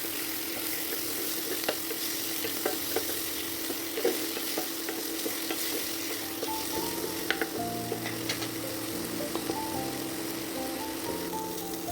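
Fish intestines with semolina and onions sizzle in a pan while being stirred, a continuous frying hiss broken by scraping and clinking stirring strokes, with no talk.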